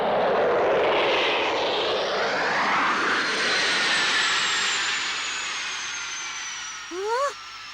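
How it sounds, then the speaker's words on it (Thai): A small model airplane in a Doraemon cartoon flies past with a loud whooshing engine roar that sweeps by and fades, followed by a brief chirpy sound at the end. "เครื่องบินรับขนาดจิ๋วยังไงเล่า"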